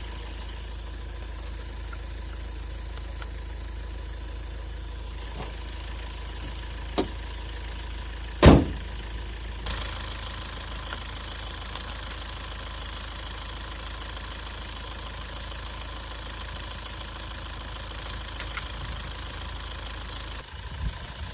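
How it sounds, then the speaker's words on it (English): Car engine ticking over at idle after a jump start from a dead battery, a steady low hum that holds for a long stretch, with a sharp knock or clunk partway through and a few faint handling noises. "Now let the car tick over for about 20 minutes"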